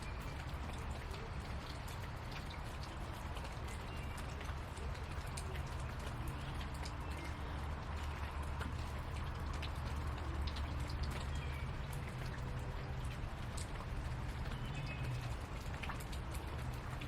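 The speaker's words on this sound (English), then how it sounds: "it's starting to rain" Rain falls outdoors in a steady, dense patter of drops, continuous and even throughout with no pauses or talk, moderately quiet.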